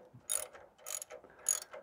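Ratchet tightening a bolt in three quick bursts of sharp clicking pawl strokes, close and clear with short pauses between pulls.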